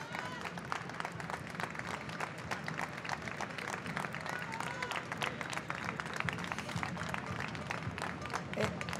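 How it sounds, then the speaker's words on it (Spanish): A street crowd applauds a large column of actors passing by during a public-media workers' march, dense clapping and cheering sustained throughout at moderate distance. "un aplauso por favor para ellos"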